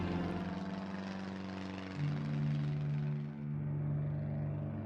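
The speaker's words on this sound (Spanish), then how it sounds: "los aviones de la Marina desde los cielos siguen sembrando el pánico y la muerte." Argentine Navy warplanes fly overhead during a bombing raid, giving a steady, droning propeller engine roar that swells slightly and then eases, with no voices present.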